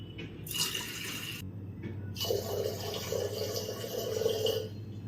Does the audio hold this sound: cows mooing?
no